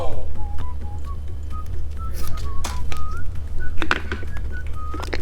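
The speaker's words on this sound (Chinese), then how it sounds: "还有一个蓝色的小哨子" A small blue toy whistle gives a series of short, thin, high peeps over a constant low background hum.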